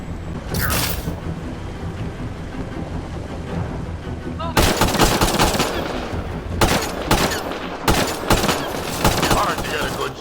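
Gunfire in the Mass Effect game during a firefight near a docking transport: dense, rapid volleys of shots with loud bursts that repeat and stack over a constant rumbling background.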